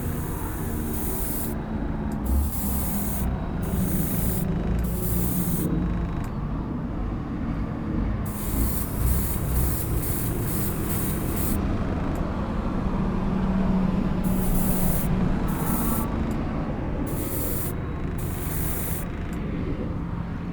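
Aerosol spray can laying a tack coat of paint on a diecast model, with hissing bursts of varying length separated by short gaps over a constant background rumble, close and fairly loud, with no voices.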